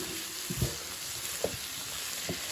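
A bolognese base of meat and vegetables cooks in a pan with a soft, steady sizzle and a few faint knocks or scrapes of a utensil, quiet and with no one speaking.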